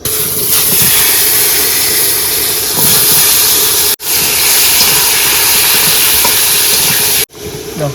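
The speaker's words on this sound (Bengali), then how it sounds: "মাছ ভাজা আমার কমপ্লিট, এবার আলুগুলো ভেজে নেবো।" Potatoes fry in oil with a loud, continuous sizzling hiss, broken by two brief drops into near silence.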